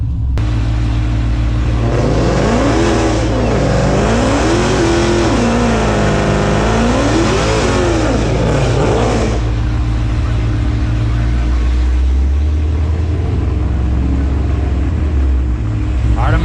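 A powerful Dodge Challenger Hellcat Redeye widebody engine roars loudly nearby, revving up and down in several rising and falling sweeps before settling into a deep rumble.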